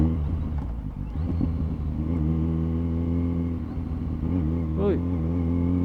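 A Kawasaki Z900 SE sport motorcycle engine idles and rumbles steadily nearby, with a few short throttle blips, while people talk over it.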